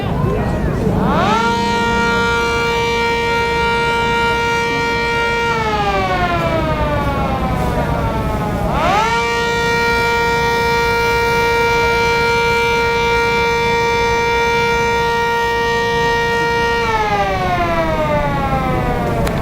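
Century 10V outdoor warning siren at a siren convention, sounding two long rising-and-falling wails with a steady harmonic-rich tone, loud and close, a brief winding down between cycles.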